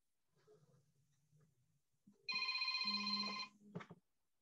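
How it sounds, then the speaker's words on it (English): A telephone rings loudly in a short burst of electronic bell tones, set in a school role-play about noise pollution, after a stretch of faint background murmur. "Just then, Ria gets a phone from her house"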